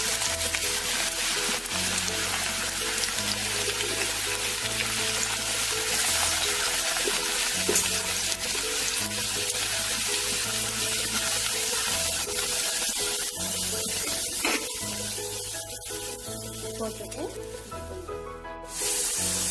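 Sliced lady's finger (okra) frying in hot oil, with a steady loud sizzle running throughout and light stirring noises near the end, alongside background music and no talking.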